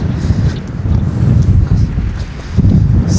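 Strong outdoor wind buffets the microphone near Mount Sinai in Barangay Masa, Dumanjug, Cebu, making a loud, steady low rumble that surges and gusts without a break.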